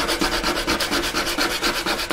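Rhythmic back-and-forth rasping of sandpaper on a wooden electric guitar body, a steady scrubbing stroke repeating quickly and close by.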